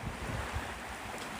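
Ocean surf at Phu Quoc beach rolls in as a broad, steady rush, mixed with wind buffeting the microphone.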